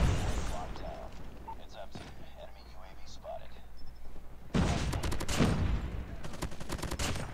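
Gunfire in the mobile shooter COD Mobile, an early burst followed by a quieter stretch with someone talking, then sustained rapid automatic fire that runs for several seconds up close.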